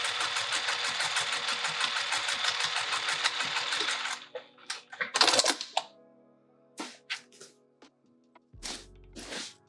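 A sewing machine stitches through layers of fleece for a pouch kit in a steady, fast run for about four seconds, then stops, leaving a few handling clicks and rustles.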